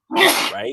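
A single sharp sneeze erupts close by during a casual football chat, loud and abrupt, followed by a brief spoken word.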